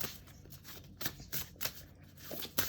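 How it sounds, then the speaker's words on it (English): An oracle card deck, the Midnight Sun Oracle, is shuffled by hand in quick papery riffles and slaps, in irregular bursts that are close and fairly quiet. "do I want to shuffle and just read one from the deck?"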